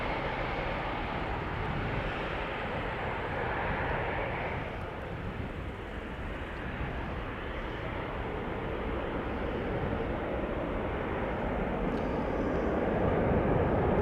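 A jet airliner heads out of Amsterdam Schiphol bound for Vienna, its engines a moderate, even rumble that swells slightly toward the end, with no talking.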